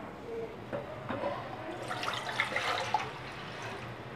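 Three cups of water poured into a pan while making sooji halwa, a soft continuous splashing and trickling that swells in the middle and then tapers off, heard alone.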